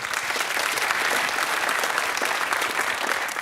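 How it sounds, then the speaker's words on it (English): Sustained applause from a studio audience and teams at a televised university quiz contest, a dense, steady patter of many hands clapping throughout without pause. "Nice of you to applaud each other."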